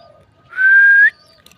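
A dove gives a single clear whistling call, close and loud, lasting about half a second against a quiet background.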